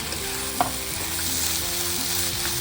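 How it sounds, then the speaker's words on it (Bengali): Fried potatoes, pointed gourd and rice sizzle steadily in a pan while being stir-fried, a continuous close crackle with a brief scrape of stirring. "ভালো করে আলু পটল আর চাল ভালো করে এটা আমি কষবো।"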